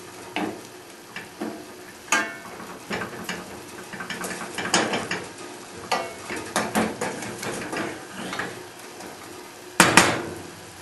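Minced beef browning in a pan, with a low sizzle beneath frequent sharp clinks and scrapes of a utensil against the pan, irregular and close, with one louder clatter near the end.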